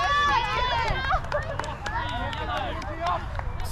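A rugby league match crowd cheers and shouts loudly, a dense roar of many overlapping voices and whistles held for several seconds while a commentator talks over it.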